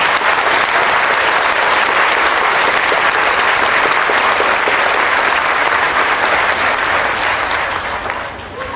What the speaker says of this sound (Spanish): Un aplauso a la palabra de Dios.